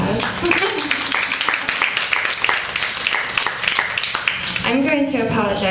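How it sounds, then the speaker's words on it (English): An audience at a poetry reading applauds in a steady, dense wash of clapping that lasts the whole stretch, and a voice starts to come through near the end. "I'd like to give them a round of applause"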